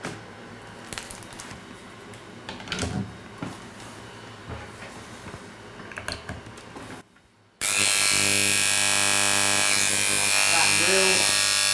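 A low background hum with scattered knocks, then a loud, harsh electric buzzing starts abruptly and drones on, a grating hair clipper motor running close through a voltage transformer on a 50 hertz supply.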